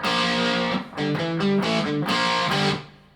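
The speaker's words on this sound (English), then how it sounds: "You do get a really nice crunch from the Blackstar." Electric guitar with a crunchy, lightly overdriven tone through the clean channel of a Blackstar amp, a few strummed chords ringing loud and full with brief gaps between them.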